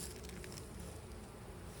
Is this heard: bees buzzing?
yes